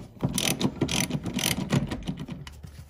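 Hand ratchet clicking rapidly in repeated bursts while backing out 16 mm bolts from a bracket on a BMW E46 M3, close and fairly loud with no talk.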